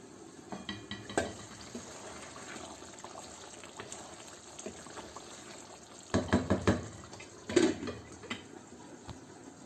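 A lid is set over a pot of butter chicken on the stove, giving a couple of soft clattering metal knocks near the end over a low background of simmering and faint kitchen noise.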